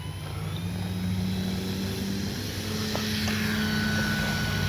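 A Durafly Slowpoke RC airplane takes off from grass, its electric motor and propeller giving a steady, fairly loud drone that holds level throughout, with faint outdoor noise around it.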